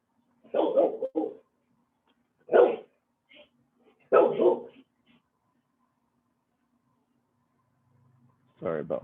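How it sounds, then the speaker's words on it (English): A pet dog barks in bursts of single and double woofs, moderately close and clear, with short gaps between, in a quiet indoor setting during an online consumer education session on kitchen appliances. "Sorry about my dog. I don't know if you can hear her."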